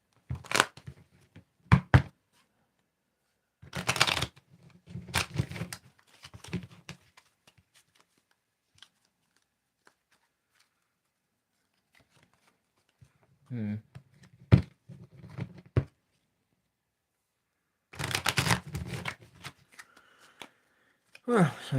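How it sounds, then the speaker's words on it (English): A deck of tarot cards is shuffled in several quick riffling bursts separated by pauses, close and crisp, with a few soft thumps between them and no talk over the shuffling. "Let's do some shuffling here."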